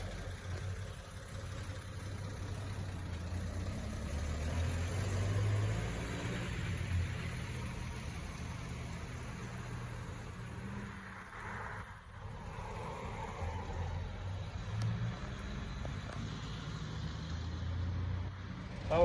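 A pickup truck drives along the road, its engine giving a steady low rumble and road drone from inside the cab, with brief wind or handling noise now and then.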